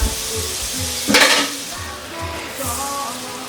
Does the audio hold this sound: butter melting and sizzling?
yes